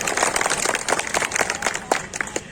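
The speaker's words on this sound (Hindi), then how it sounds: "सभी रचनाकारों के सम्मान में एक बार जोरदार ताली आपके बीच से आ जाए।" An audience at an outdoor Hindi poetry gathering in Unchahar's vegetable market claps heartily, sharp individual hand claps standing out from a lively crowd applause that carries on throughout.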